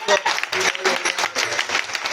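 A short burst of applause from a small group, with a voice talking over the clapping.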